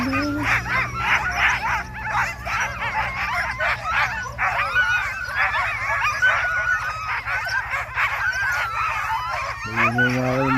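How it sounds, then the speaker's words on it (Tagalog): Sled dogs in Ilulissat, Greenland bark, yip and whine excitedly in a continuous chorus nearby, with a low engine hum underneath. "Ayun yung mga aso, no?"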